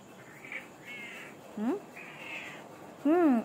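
A cat meows several times indoors, short rising and falling cries spaced across a few seconds. The last one is the loudest and nearest, over a quiet background.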